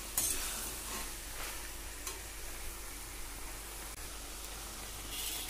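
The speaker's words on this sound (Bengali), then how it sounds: "খুব ভালো করে চিংড়ি মাছ সহ মিচুলিটাকে কষাতে হবে" Small shrimp and mituli are stir-fried in a nearly dry pan, giving a steady close-up sizzle and hiss with occasional scraping stirs against the metal and no voices.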